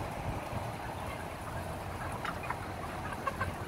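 Broiler chickens about 35 days old fill a chicken house with a soft, steady murmur of clucking, a few sharper calls rising above a constant low background noise, with no talking.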